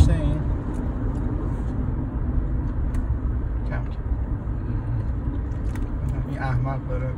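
A Lexus IS 250 on the road gives a steady low engine and exhaust drone with road noise, heard from inside the car while people talk.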